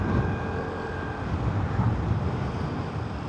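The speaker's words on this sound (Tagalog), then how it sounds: "Ang lakas ng hangin" Strong wind buffeting the microphone outdoors, a constant low roaring rumble that holds steady throughout with no talking.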